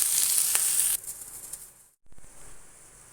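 Ingredients for banana flower vadai sautéing in a hot pan, a loud steady sizzle that drops sharply partway through, goes briefly quiet, then resumes more softly.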